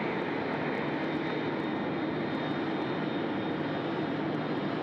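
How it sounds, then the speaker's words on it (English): A Cathay Pacific jet airliner taking off from runway 34 left at Sydney Airport makes a steady, fairly faint, distant engine roar that holds evenly throughout. "Cathay 138, runway 34 left, please take off."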